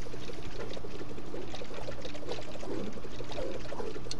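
Syrup pouring from the Syrup Slinger in the Fortnite video game, a soft continuous liquid pour with gentle gurgling and trickling, fairly quiet over a low steady background hum.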